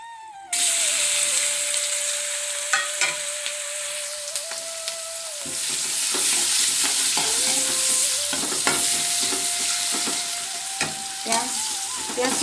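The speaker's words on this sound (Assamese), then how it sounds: "এতিয়া ইয়াত কেইটামান মই জিৰা দি দিছোঁ, এইকেইটা শুকান জলকীয়া 4টাও দি দিলোঁ" Cumin seeds and four dried red chillies fry in hot oil, giving a loud, continuous crackling sizzle with scraping stirring strokes throughout and a faint tone beneath.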